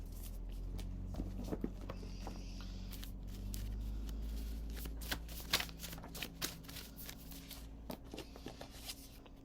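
Playing cards being shuffled in a series of quick riffling bursts and soft clicks, fairly quiet against a low steady hum, with no voices.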